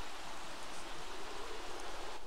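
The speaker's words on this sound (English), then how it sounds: "you can, like, make the rain comes inside." Rain falls in the Sims 3 Seasons video game as a steady, even hiss of drizzle with no break and no voices.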